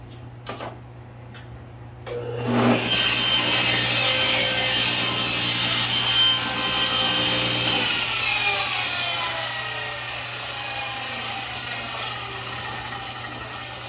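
A table saw cuts through a wooden board for a custom frame: a loud steady blade whine under load that starts abruptly after a brief motor spin-up, then eases as the cut finishes and the machine keeps running.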